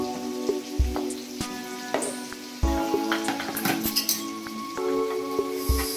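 Chopped onions, two large ones, hitting hot oil for pav bhaji give a steady sizzle, with light clinks of a utensil against the pan and occasional low bumps throughout.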